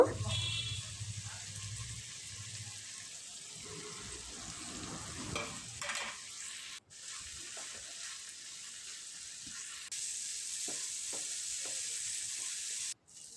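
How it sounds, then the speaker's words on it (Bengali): Scrambled egg goes into a hot pan for chicken fried rice. Steady close sizzling frying runs throughout with intermittent scraping stir strokes, and a voice is faintly present. "ডিমের ভুজিয়াটা দিয়ে দেব"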